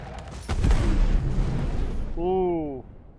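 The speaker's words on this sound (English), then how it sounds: "Don't see the explosion, but I heard it." In the Star Citizen space combat game, a missile explosion booms as a heavy low blast with a burst of crackling debris that fades, followed by a brief tonal electronic warble.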